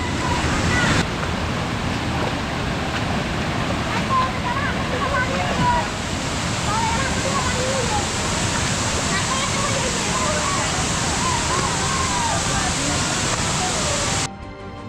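Jhorjhori waterfall on the Sitakunda trail, swollen after rain, roars as a loud, steady rush of falling water that fills the whole scene and fades out abruptly at the end.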